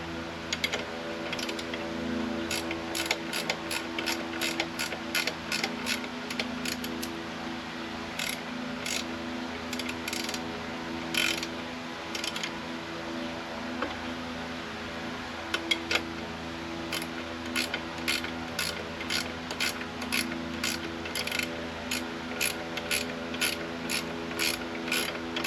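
A hand ratchet loosens a bolt on a Rippa R13 Pro mini excavator, clicking rapidly in repeated runs of pawl ticks over a steady background hum, close and crisp.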